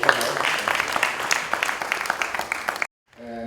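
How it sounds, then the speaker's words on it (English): An audience at a Hellenic Medical Society of New York event applauds a research grant recipient from Penn State College of Medicine with brisk clapping for nearly three seconds, which then cuts off abruptly into near silence. "Another round of applause for"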